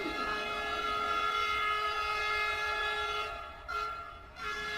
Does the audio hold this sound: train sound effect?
yes